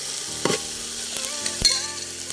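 Bird's eye chilli pickle ingredients are stirred in a hot pan, a soft sizzle running underneath a few distinct scraping strokes and clacks of a spoon against the pan over a couple of seconds.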